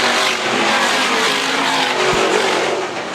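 Stock cars race around an oval at Arlington Stadium, bumping into each other through a bend, with loud engine roar and squealing tires and a dull thud of impact.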